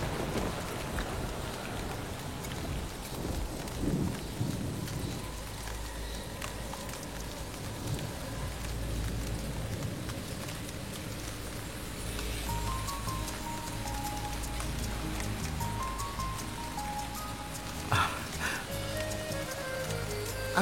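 Heavy rain pours steadily and densely throughout, with low rumbles of thunder rolling underneath, a continuous wash of sound with no voices.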